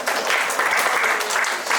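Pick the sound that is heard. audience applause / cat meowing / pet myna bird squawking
audience applause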